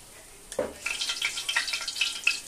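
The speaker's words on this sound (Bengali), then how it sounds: "আমি সাদা তেলে মুগ ডালটাকে হালকা একটু ভেজে নেব।" Mung dal hits hot vegetable oil with a soft splash, then a steady crackling sizzle continues, bright and close.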